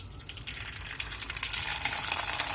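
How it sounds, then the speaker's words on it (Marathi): Kurdai, homemade wheat crisps, frying in hot oil, a bright dense crackling sizzle that swells over a couple of seconds, close and steady with no talk. "आपण कुरडई तळून घेणार आहोत"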